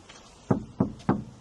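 Three sharp knocks on a hollow metal body panel of a Ford Bronco, evenly spaced and close, each with a short dull thud that dies quickly.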